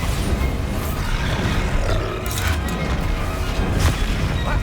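A Confringo fire spell explodes in the Hogwarts Legacy video game, a rumbling roar of blasts with sharp crackling bursts and debris, loud and continuous, with no speech.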